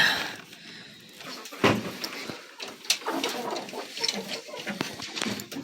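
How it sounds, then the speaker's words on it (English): Several chickens in a coop cluck and squawk in scattered bursts, close by, with soft shuffling and rustling between the calls. "we have all sorts of chickens in here."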